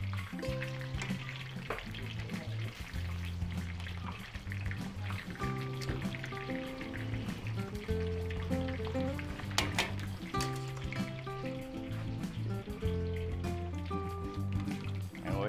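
Embutido frying in hot oil, with a steady close crackling sizzle that runs throughout over a faint background hum of tonal sound.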